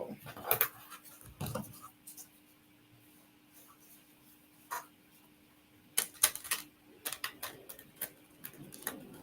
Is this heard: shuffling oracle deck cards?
yes